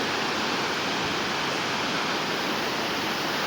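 The Roaring Run waterfall in Roanoke, Virginia pours in a constant, dense broadband roar, loud and close, with no pauses and no voices.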